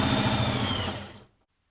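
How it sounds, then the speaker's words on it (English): A sewing machine runs a quick burst of stitching along a top's centre back seam, a close, even mechanical whir that stops abruptly after about a second. "And sew the centre back seam."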